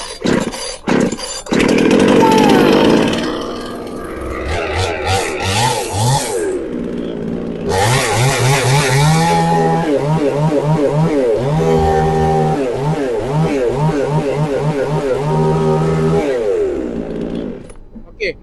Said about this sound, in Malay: Sebelum ni saya dah banyak buat video macam mana cara nak hidupkan chainsaw China MS461.